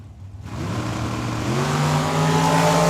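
Drag racing engines at Tucson Dragway rise from a quiet start into a loud, climbing whine and roar that grows steadily stronger over a few seconds as cars accelerate down the strip.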